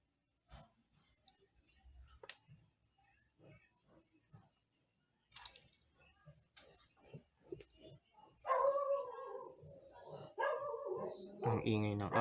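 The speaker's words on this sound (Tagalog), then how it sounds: "Kasi maingay ang aso ng aming kapitbahay." A neighbour's dog barks in bursts, faint and distant at first, then louder near the end, with a person talking over the later part.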